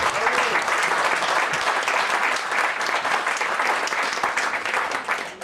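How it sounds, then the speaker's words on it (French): A room of people applauds Marie-France Baron at a morning handover ceremony, with dense, steady clapping that holds loud and even throughout, a few voices faintly under it. "Marie-France Baron, si tu veux bien te lever. On l'applaudit."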